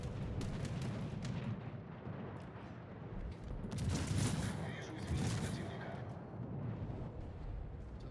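Booming salvos from the Kirov cruiser's 180 mm guns in World of Warships, deep rumbling blasts rising and falling over a steady battle ambience, moderately loud and without talk.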